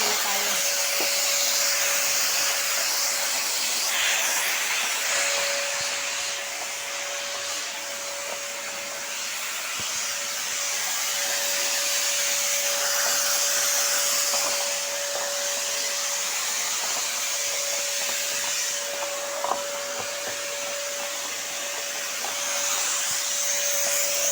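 A vacuum cleaner runs steadily while a room in shared accommodation is being cleaned, a loud, constant whining drone with a fixed tone that barely changes, alone without talk.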